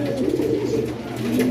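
Pigeons of a courting pair cooing close by, a soft, low, rolling coo that repeats steadily with no voices over it.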